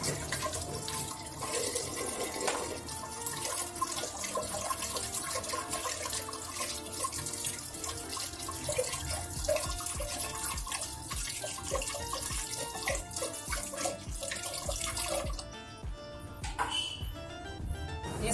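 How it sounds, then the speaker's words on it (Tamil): Tap water runs steadily from a pipe while goat legs are washed clean under it, a constant splashing gush, close and fairly quiet, that thins out briefly near the end. "நேரடியாக பைப்பை திறந்து காலை க்ளீன் பண்ணி எடுத்துக்கோங்க."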